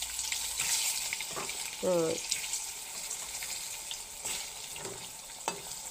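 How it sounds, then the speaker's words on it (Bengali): Eggs fry lightly in a pan with a steady, hissing sizzle that runs throughout, while a voice talks over it now and then. "তো ডিমেগুলোরে আই হালকা কেনা ভাজমু, বেশি কড়া করে ভাজবেন না।"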